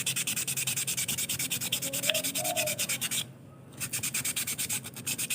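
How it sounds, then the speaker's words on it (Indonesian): Fine 400-grit sandpaper rubbed back and forth over a sawangan kite whistle, fast regular scraping strokes close to the microphone, with a brief pause midway before the strokes resume. "Ini amplasnya ya guys, ukuran 400."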